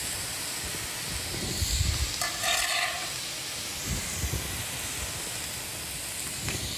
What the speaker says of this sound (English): And now, we're going to add in the tomatoes.